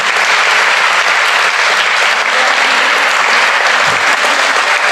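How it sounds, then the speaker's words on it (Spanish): Steady, dense applause from a seated audience honoring panelists at a public conversation on the plurinational state, loud and continuous for about five seconds with no talking over it. "Quiero, primero que nada, un aplauso, por favor, a Diego, a Verónica, a Paula"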